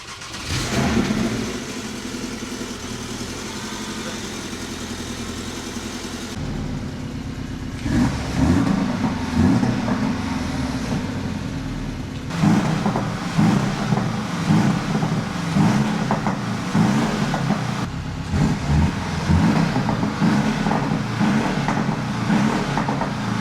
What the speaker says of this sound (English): let's do a sound check and see if some exhaust tips have made any difference to the sound